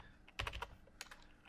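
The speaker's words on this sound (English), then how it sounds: "And so we can use the arrow keys" Computer keyboard arrow keys tapped while adjusting text spacing in After Effects: a quick cluster of close clicks, then a few more spaced taps, crisp and near against a quiet room.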